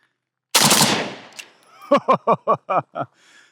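An AK rifle fitted with a muzzle brake fires one sharp, very loud shot outdoors with a trailing echo. A quick string of short, evenly spaced pulses follows.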